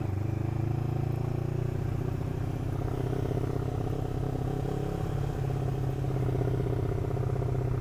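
A Lexmoto LXR 380 motorcycle engine runs steadily with a slightly uneven, pulsing pattern to its drone, loud and close throughout.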